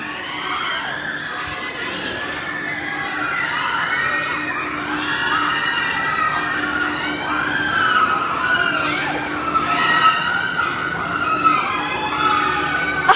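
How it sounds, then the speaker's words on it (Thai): Children screaming on a Boomerang amusement ride, with a continuous chorus of high, overlapping shrieks that swell and fade in waves as the ride swings, loud and sustained throughout. "เสียงกรี๊ดไม่หยุดไม่หย่อน"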